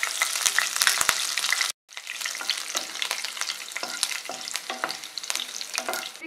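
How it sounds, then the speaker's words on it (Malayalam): Dried red chillies and green chillies hit hot oil that already holds popped mustard seeds, frying for lemon rice with a loud, continuous crackling sizzle and stirring scrapes, close and without talk. "ഇനി നമുക്കിതിലോട്ട് വറ്റൽമുളകും പച്ചമുളകും ചേർത്ത് കൊടുക്കാം."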